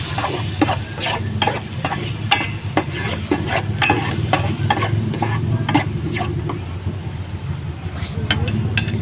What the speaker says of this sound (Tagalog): So antayin natin mag-brown ang garlic.